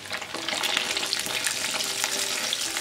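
Milk strips deep-frying in hot oil, giving a steady, dense crackling sizzle close up with no talking throughout.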